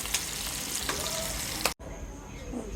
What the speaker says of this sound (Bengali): ফ্রাই করতেছি মাছগুলো।